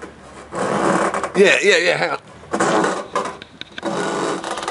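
A voice imitates the sound of frog skin being peeled back from the legs, producing rough, coarse rasping bursts in several close takes, with a brief spoken aside between them.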